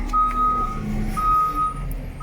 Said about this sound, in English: Sorry about the garbage truck.